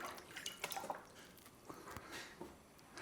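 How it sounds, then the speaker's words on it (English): About two cups of organic chicken broth poured into a pan for keto turkey gravy, a soft close liquid trickle with small drips and splashes, faint and steady without talk. "And then we're going to add 2 cups of a good quality chicken broth."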